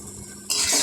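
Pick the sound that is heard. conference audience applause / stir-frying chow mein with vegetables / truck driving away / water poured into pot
stir-frying chow mein with vegetables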